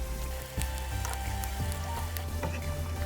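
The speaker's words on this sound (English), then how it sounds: "Adding fried paneer. Mix it gently." Fried paneer cubes stirred into simmering achari gravy give a steady close sizzle throughout, with a few soft spoon knocks against the pan and no talking.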